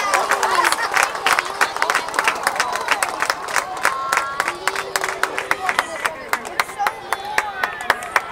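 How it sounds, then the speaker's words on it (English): Crowd at a high school football game between the Hornets and Portsmouth Trojans, with steady clapping and cheering that carries throughout, loud and close with a dense rhythm of claps. "Let's give you a round of applause."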